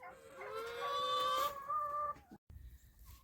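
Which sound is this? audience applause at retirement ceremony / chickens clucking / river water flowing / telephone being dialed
chickens clucking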